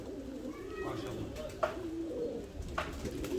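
Pigeons coo softly in a loft, with low, rolling calls repeating at a moderate distance over a busy background of faint murmuring and shuffling.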